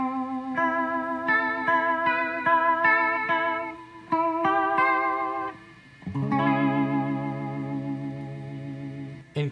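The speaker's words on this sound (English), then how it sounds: "Adding vibrato from the MS50G." Electric guitar with vibrato from a Zoom MS50G picks a run of wobbling notes with a steady pitch warble, then settles into a sustained, pulsing chord, close and clear.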